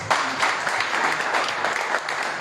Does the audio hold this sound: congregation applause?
yes